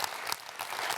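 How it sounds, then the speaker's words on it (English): Conference audience applauding Plaid Cymru MPs at an SNP gathering, a dense, steady wash of many hands clapping in a large hall, sustained and fairly loud throughout with no talk. "Give them a round of applause,"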